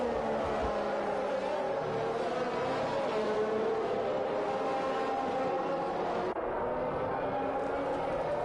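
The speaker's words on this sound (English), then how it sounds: "So the first cars begin to line up on the grids." Race car engines droning and rumbling as cars roll onto the starting grid at the Bahrain round, a continuous blended hum of several cars at moderate distance.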